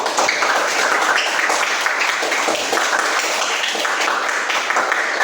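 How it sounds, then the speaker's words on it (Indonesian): Students in a classroom coding and artificial intelligence lesson clap their hands together on cue, producing a dense, continuous patter of many hands that holds at an even, lively level without any speech. "Kalau senang, coba dulu lah tepuk tangan semangat"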